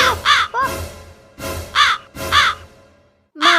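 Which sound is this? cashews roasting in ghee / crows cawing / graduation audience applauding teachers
crows cawing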